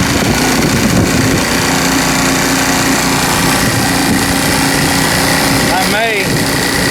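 A small outboard motor on a Hobie kayak idles just after starting, a continuous close buzzing drone with a steady hum and splashing water, a brief chirping sound near the end.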